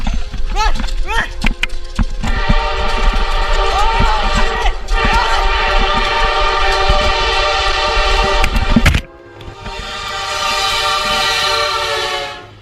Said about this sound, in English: just how close behind them the train was until the blaring sound of the horn could be heard from directly behind them